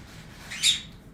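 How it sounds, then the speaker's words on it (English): A pet bird gives a single short, sharp squawk indoors, fairly close and brief, over a quiet room background. "The bird's trying to get my attention, but also doesn't want me to pick her up"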